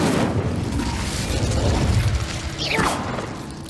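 A fire spell is cast in the Hogwarts Legacy video game while exploring a catacomb. It gives a loud, sustained whooshing boom with a rising burst partway through.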